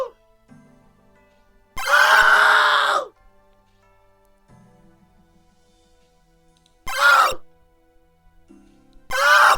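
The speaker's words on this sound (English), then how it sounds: "Listen to them scream." Game characters in 2004scape let out three loud vocal screams, a long one followed by two shorter bursts, separated by near silence with faint game sounds.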